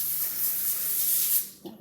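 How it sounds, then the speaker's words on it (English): Cooking spray hisses from a can onto tin foil lining a sheet pan, a steady breathy spray lasting over a second before it stops, with a faint clatter at the end. "we need to spray our tin foil"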